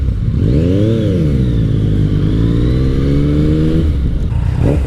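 A 2017 Yamaha FJ-09 motorcycle engine revs up and holds a steady, loud drone while riding, its pitch rising, dipping and sweeping before easing off near the end. No one speaks.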